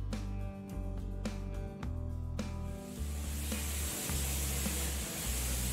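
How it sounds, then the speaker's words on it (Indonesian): A spray gun applying melamine wood-finish paint gives a steady, moderately loud hiss, with a rhythmic low pulsing and several sharp clicks in the first half. "Setiap kali menyemprot, dahulukan menyemprot di area yang sulit untuk dijangkau"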